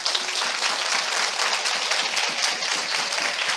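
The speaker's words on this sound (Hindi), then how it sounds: "मैं चाहता हूं हम सब मिलकर यीशु के लिए जोरदार ताली बजाएं।" A church congregation claps for Jesus in a loud, steady burst of applause, many hands together and fairly close, sustained evenly through the moment with no clear voices.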